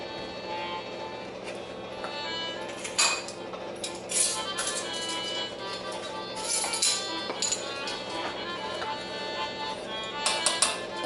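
A utensil scrapes and clinks against a pot of boiling caramel in irregular bursts over a low steady bubbling hiss, close by.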